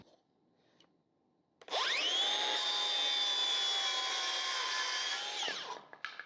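A piece of PVC pipe cut to length with a power saw. Faint bench noise gives way to a loud, steady motor whine for about four seconds, which then winds down and stops.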